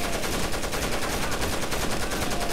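Dense, continuous automatic gunfire from the video game Rainbow Six Vegas rattles loudly and steadily throughout, with no pause and no voices.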